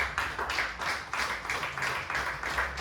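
Congregation clapping together in a church service, a steady rhythmic patter of many hands filling the room at moderate loudness, with no voices over it.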